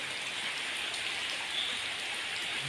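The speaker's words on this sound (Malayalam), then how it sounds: "നല്ല മഴയാണ് കേട്ടോ." Heavy rain falls at night as a dense, steady hiss of drops pattering on surfaces, even and unbroken throughout with no voices.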